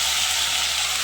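Masala sizzles in a pan for egg curry, a steady bright hiss of frying that stays close and even throughout the brief moment.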